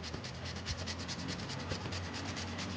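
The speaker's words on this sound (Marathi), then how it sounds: "अशी रताळी किसून घेते मी चांगली रताळी किसून घेतली" Boiled sweet potatoes being grated close up give a continuous soft rubbing rasp with a fast regular stroke rhythm, steady and quiet throughout.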